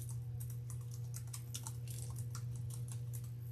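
Typing on a computer keyboard: rapid, fairly faint key clicks in an uneven run, over a steady low electrical hum.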